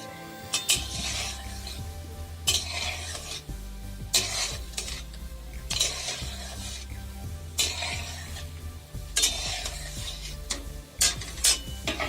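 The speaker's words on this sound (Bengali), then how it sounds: "এই দ্বিতীয় শেপ যেটা গোল করেছি সেটা কন্টিনিউ ভেজে চলেছি।" Round kalo jam sweets fry in a pan of oil with a soft steady sizzle, repeatedly punctuated by scraping, clinking stirs of a metal utensil against the pan at irregular intervals, fairly quiet and close.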